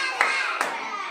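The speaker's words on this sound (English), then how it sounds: "Clap your hands." Young children in an international school class clap their hands, two distinct claps heard under soft background chatter.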